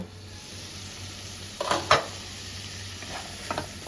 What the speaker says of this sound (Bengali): মশলাটা যাতে পুড়ে না যায় তার জন্য অল্প একটু জল দিয়ে ঢাকা দিয়ে দু মিনিটের মতো কষিয়ে নেব